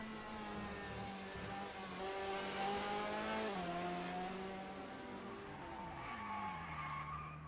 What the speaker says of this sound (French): On a entendu un gros coup de frein qui a été donné derrière, en fond. Gros blocage de roue.